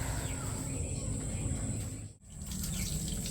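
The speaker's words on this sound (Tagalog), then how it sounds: "At huhugasan na po ni Seth yung isda." Tap water runs in a steady, close gush while a pink salmon head is rinsed at a sink, with a brief break partway through before the flow resumes.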